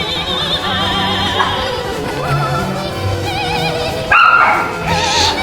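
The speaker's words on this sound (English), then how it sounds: "Don't mind my dog's bark in the background." A pet dog barks somewhere in the background of a room, faint and intermittent beneath a steady tonal backdrop, with a sharper burst near the end.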